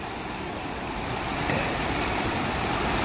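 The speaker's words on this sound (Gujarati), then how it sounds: "વિડીયોમાં જોવો છો કેવી રીતે પાણીનો બહાવ બહુ છે" Floodwater rushes past in a swollen river, a dense, continuous roar that stays loud and close for the whole stretch with no voices over it.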